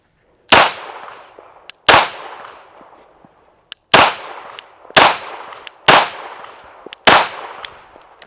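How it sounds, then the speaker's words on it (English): Six loud, sharp Glock 17 Gen 5 pistol shots fired outdoors at a range from five to ten yards, each a crisp crack with a short decaying echo, spaced about a second apart, with faint clinks of ejected casings between. "let me back it up just a little bit, shoot from a slightly farther distance"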